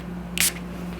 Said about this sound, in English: 2 good sprays.